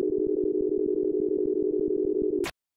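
In the video game Undertale, an elevator gives off a steady electronic beep tone with a fast pulsing flutter. It holds at one pitch for over two seconds, then cuts off abruptly after a brief burst of static.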